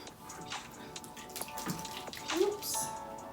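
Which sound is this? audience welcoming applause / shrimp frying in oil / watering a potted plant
watering a potted plant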